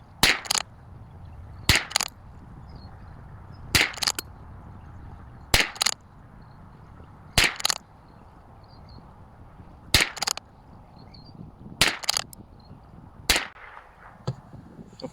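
Bergara BMR-X Steel rimfire rifle firing ELEY ammunition outdoors, about eight sharp, loud shots spaced a couple of seconds apart, with a low wind-like rumble between them and no speech.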